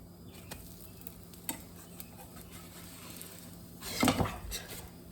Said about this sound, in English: And now I'm gonna flip these.